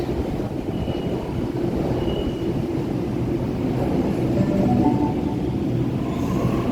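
A Sydney B series electric train passing through North Sydney station, a steady low rumble and rolling drone that holds evenly and swells slightly toward the end, heard on the platform without voices.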